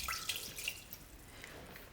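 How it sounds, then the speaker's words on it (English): Water poured into a pot while making homemade marshmallows with honey, a faint, brief splashing and dripping trickle heard up close and alone. "Now we're pouring the rest of the half a cup of water in."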